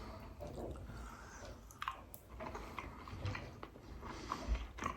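Close, soft chewing of pasta with spinach, burrata and onion: moist, squishy bites and faint crunches in a quiet room, with no talking.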